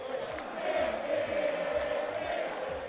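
Football fans of Independiente fill a stadium at a Copa Argentina match against Lanús with a sustained crowd roar, a dense wall of cheering and chanting voices that holds steady from start to finish.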